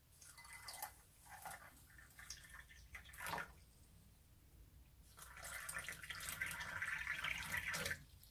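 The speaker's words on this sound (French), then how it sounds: "Je vais simplement rajouter de l'eau." Water is poured into a bowl of dried potato flakes, with short, splashy bursts followed by a steadier, louder stream from about five seconds on, close and alone.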